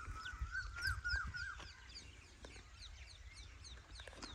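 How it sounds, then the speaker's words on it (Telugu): In open village fields, small birds call again and again in quick, high chirps while a chicken clucks low nearby. The chirping is faint and continuous and comes from some distance. "కంటిన్యూ వరుస్తూనే ఉన్నాయి పక్షులు."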